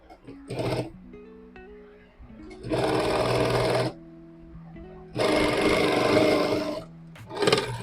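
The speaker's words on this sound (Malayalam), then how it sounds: "ഒന്ന് സ്റ്റിച്ച് ചെയ്ത് കൊടുക്കുകയാണ്." A sewing machine stitching a joined piece of cloth runs in loud bursts of rapid whirring, one short and two longer runs of about a second, separated by quieter pauses with faint talk.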